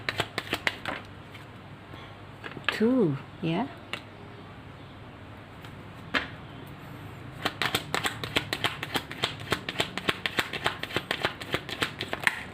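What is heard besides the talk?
tarot cards being shuffled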